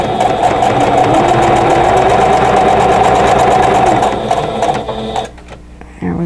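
Sewing machine stitching quilt block seams, a loud continuous rapid mechanical whir that runs steadily, then slows and stops near the end.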